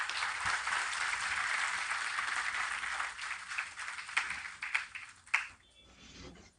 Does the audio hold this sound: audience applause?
yes